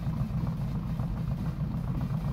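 A modified Chevy Silverado truck engine in a farming video game idles with a low, rumbling burble, steady and fairly quiet, running alone without talk.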